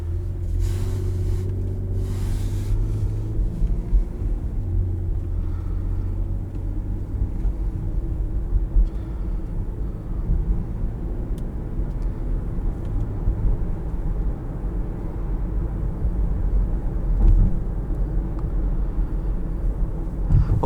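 Low, steady interior road rumble inside a moving 2021 Lexus RX350 F Sport SUV, a constant drone with faint wind and tyre noise and no talk.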